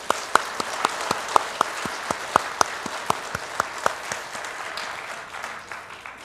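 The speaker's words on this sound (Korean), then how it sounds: "하나님의 은혜를 큰 박수로 한번 찬양하겠습니다" Loud, crisp applause from a church congregation during a worship service, with distinct sharp claps standing out from a steady wash of clapping that fades toward the end.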